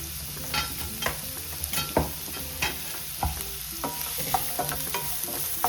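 Chopped onions fry in a spoonful of hot oil for padavalakai kootu, a steady close sizzle with regular scraping stirs throughout and no talking.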